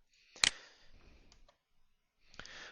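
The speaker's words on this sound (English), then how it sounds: "then just hit the Enter key on the keyboard to create a little bit of a separation here" A single sharp click of a computer keyboard's Enter key, close and dry, is followed by quiet room tone and a softer keystroke near the end.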